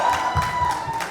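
Audience applauding and cheering at a panel discussion with film actors on stage, a dense patter of claps and crowd noise with a steady tone running underneath.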